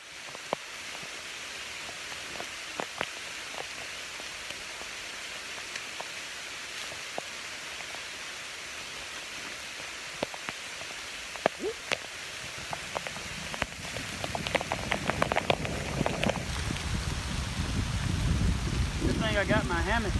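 Steady rain falls through a forest canopy, a dense even hiss with scattered close drips and taps, swelling louder and heavier toward the end as brushing movement nears.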